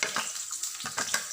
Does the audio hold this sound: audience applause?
no